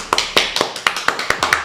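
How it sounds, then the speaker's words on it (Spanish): Steady, evenly spaced hand claps, about eight sharp close claps in under two seconds, greeting a podcast guest in a small studio. They sound like a few people clapping, not a large crowd, with no talking over them. "Un fuerte aplauso."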